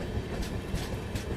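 A train runs on the Bharatpur line into Agra Cantt, heard as a steady rumble with faint rhythmic clatter of wheels, fairly close and continuous, with no voices.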